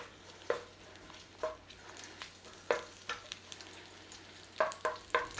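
Garlic and chilli frying in a hot pan, giving a soft steady sizzle broken by several sharp stirring scrapes and crackles spaced irregularly throughout.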